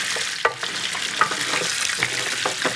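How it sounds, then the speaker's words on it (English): Tomato paste stirred around a hot pan for a brown beef stock, giving a steady sizzle broken by a few sharp scrapes of the spoon, close and fairly loud with no voices. "get a good flavorful tomato paste and stir that around in the pan"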